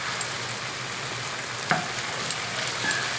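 A shallot fries in a pan for a spicy crab pasta, giving a steady soft sizzle with a few small pops and crackles and no voices.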